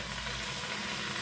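Food sizzles and fries in a pan while cooking Peruvian carapulcra, a brief, steady, close hiss with no voices.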